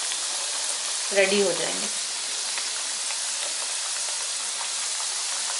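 Namkeen twister snacks frying in hot oil make a continuous bright sizzle throughout, with a brief spoken phrase near the start laid over the crackle.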